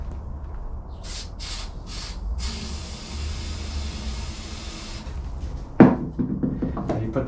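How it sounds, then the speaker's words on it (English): Short hissing sprays of fogging oil into a power tool's engine cylinder come in bursts, followed by a longer steady spray, then a few faint clinks and rattles close by. "I'm going to spray fogging oil into the cylinder."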